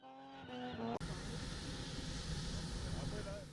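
Car spinning at a South African motorsport event: a loud, sustained engine roar with tire screech that fills the whole stretch after a brief spoken lead-in, continuous and close.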